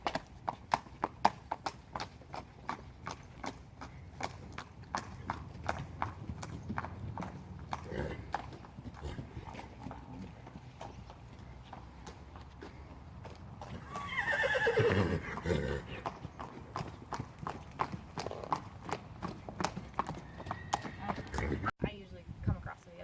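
A reining horse's hooves clip-clop in an even walk that quickens to a jog on firm ground, with a brief whinny partway through and a person talking over the steady footfalls.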